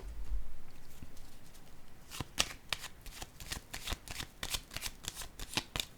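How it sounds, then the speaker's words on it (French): Playing cards are dealt and laid down one after another on a table, a brisk run of crisp snapping flicks and soft slaps, close and clear. "Je vais déposer une autre carte ici."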